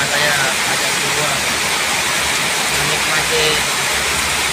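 A heavy tropical downpour pours outside a clothing bundle shop, making a dense, steady hiss that stays loud and unbroken throughout.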